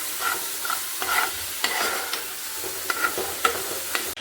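Shevla vegetable stir-fried in oil in a pan, with a steady broadband sizzle and repeated scraping stirs at an irregular rhythm, close and fairly loud, no talking.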